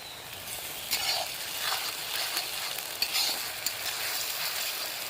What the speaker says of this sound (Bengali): দিয়ে দিচ্ছি তেজপাতা আর গোটা গরম মশলা পেঁয়াজ আদা রসুন বাটা